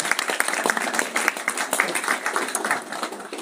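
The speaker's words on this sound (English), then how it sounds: "Everyone give Megan a round of applause" An audience at a live wealth-building event applauds, a dense patter of many hands clapping steadily for a few seconds.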